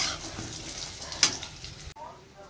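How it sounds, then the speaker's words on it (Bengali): Fish fat sizzling in hot oil with nigella seeds, green chilli and onion, a busy close frying hiss with a sharp spatter near the middle, cutting off abruptly to a quieter tail. "কালো জিরে, কাঁচা লঙ্কা, পেঁয়াজ দিয়ে তেল পটকাটা ভাজা হচ্ছে"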